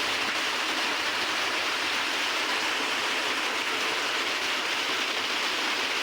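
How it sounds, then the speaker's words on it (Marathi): Heavy monsoon rain pours near Chiplun in the Konkan, a dense, unbroken hiss, loud and close, with no voices or other sounds standing out. "जाम पाऊस आहे"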